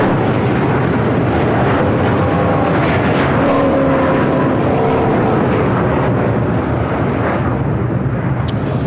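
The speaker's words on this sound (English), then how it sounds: "This is United Airlines Flight 801 taking off to Hong Kong on a 787-9 Dreamliner." A United Airlines Boeing 787-9 Dreamliner takes off from LAX with a steady, loud jet roar that swells and holds without a break, and no voices over it.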